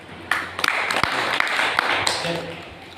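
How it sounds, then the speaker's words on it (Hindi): Applause at a Bhagavad Gita group gathering breaks out and continues as a dense, loud burst of clapping, with speech mixed in over it. "जोरदार ताली का स्वागत"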